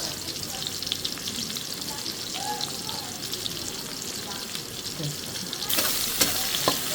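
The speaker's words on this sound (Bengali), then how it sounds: "আমি পেঁয়াজ একটু লাল করে ভেজে নেব" Chopped onions sizzle and crackle steadily in a pan as they fry for egg korma, with occasional stirring scrapes and a brighter burst of spattering near the end.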